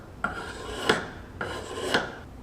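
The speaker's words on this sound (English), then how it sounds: "Now I need to scrape and prepare both sides of the spacer so that it is ready to go back on as well." An old gasket is scraped off a truck intake spacer on a 1964 Ford F250 dump truck, two close, rasping scraper strokes with a metallic edge at each stroke's end, loud and alone.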